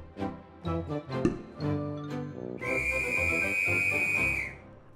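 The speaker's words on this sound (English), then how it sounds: "You'll need that whistle to blow and open the golden egg." A toy whistle sounds among a sequence of tinkly, plucked toy melody notes, then one bright, sustained shrill tone held for about two seconds before cutting off.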